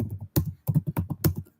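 Typing on a computer keyboard during work on a drawing tool: a quick run of crisp key clicks in an uneven rhythm, close and clear, with no talk.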